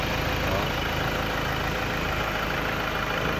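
A 2016 Ford Ranger XLT with the 2.2 engine and manual gearbox idling, a steady, even engine hum with no changes in pitch, heard close and alone.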